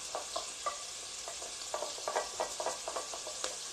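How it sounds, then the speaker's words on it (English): Onion and garlic fry in a pot for lasagna soup, a quiet bed of sizzle with soft, irregular crackles and pops scattered throughout, and no voices. "now we put the onion and garlic"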